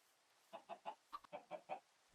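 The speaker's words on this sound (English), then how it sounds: "Oh, there's a baby chicken." A baby chicken in a crafting video game gives a quick run of eight soft, evenly spaced clucks, faint and alone.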